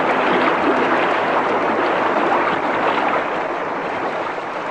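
Inside a submarine in a radio drama, water and air rush with a loud, steady broadband hiss that stays close and full, then eases slightly toward the end.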